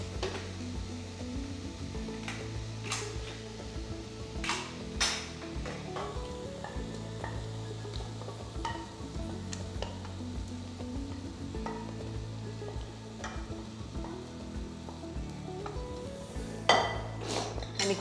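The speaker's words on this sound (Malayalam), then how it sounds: "ഇനി നമ്മൾ കുക്ക് ചെയ്ത് വെച്ചേക്കുന്ന ദാൽ ഇതിനകത്തേക്ക് ഒഴിക്കാം." Cooked dal poured into softened spinach (palak) in a pan and stirred, with a steady sizzle under repeated spoon scrapes and clinks against the pan, close and continuous with no talking.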